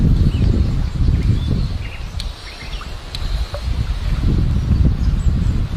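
Gusty wind buffets the microphone beside a trout river during dry-fly fishing, in uneven low rushes. Fainter outdoor sounds, such as a few brief bird or insect chirps, come through the gaps. No one speaks.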